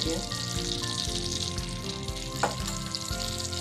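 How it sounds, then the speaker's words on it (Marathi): Butter and oil melting together in a hot pan with peas for pav bhaji, giving a steady, continuous sizzle with no talk over it. "तेल आणि बटर की टाकू दे बटर चांगला मेल्ट होऊ दे"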